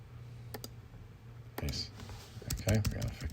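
Keys clicking on a computer keyboard as a folder name is typed, a few short bursts of taps at close range over a low steady hum, with a voice speaking alongside.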